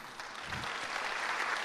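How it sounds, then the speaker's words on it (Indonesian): Scattered audience applause during a church sermon, a short, fairly quiet patter of clapping from the congregation that builds slightly and holds steady. "Ini tepuk tangan setuju atau gimana nih"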